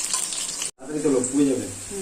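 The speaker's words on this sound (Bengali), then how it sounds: "বেগুন ভাজা চলছে" Eggplant fries in hot oil, giving a close, constant crackling sizzle that cuts out for a split second, then resumes, with faint voices in the background.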